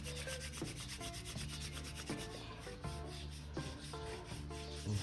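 A wooden hand drill spindle spins against a fireboard, giving a steady, continuous grinding rub with rhythmic surges about every three-quarters of a second as the hands work down the spindle, fairly close and alone.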